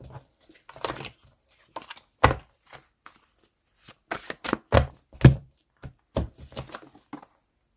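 Cards are shuffled in short bursts of riffling and tapping, separated by brief pauses, close and fairly crisp.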